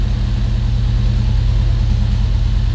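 A Volvo 145 engine idles steadily, close and loud, with an even low rumbling throb and no pauses.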